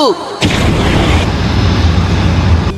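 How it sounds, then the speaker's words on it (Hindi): An anime fire-style fireball jutsu effect: a rising whoosh cuts into a sudden loud blast that rolls on as a dense, roaring, crackling rumble, sustained and close, with no talking over it. "Fire style fireball jutsu."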